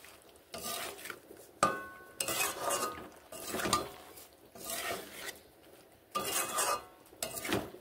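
Flat beans with slit green chillies and coriander leaves being stirred in a pan: repeated close scraping and rubbing strokes of a spatula against metal, in bursts with short pauses, no voices.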